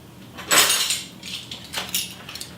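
Plates, stemware and cutlery clink and knock lightly as they are laid out on a budget Christmas table for two, with a few separate taps and jingles up close.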